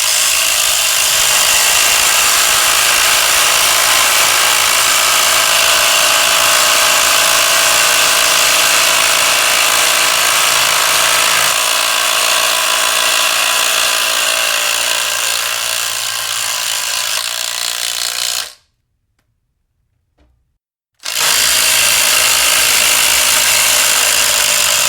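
Cordless drill drives 4-inch lag bolts into hard white oak, a loud sustained whining motor with grinding strain, running steadily for most of the clip before a sudden stop, a short silence, then the noise resumes.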